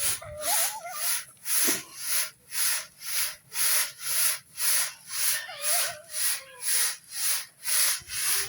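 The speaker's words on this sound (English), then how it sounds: "That's a lot of sand and gravel to sift." Sand and gravel being sifted by hand through a screen during a house renovation, a rhythmic gritty rasp repeating about every half second in steady back-and-forth strokes, close and continuous, with no speech.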